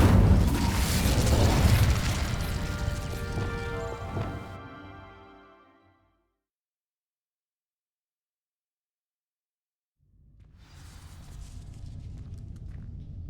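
A fiery spell bursts across dry vines in the Hogwarts Legacy game, a loud crackling whoosh that fades into total silence before a low rumbling ambience returns.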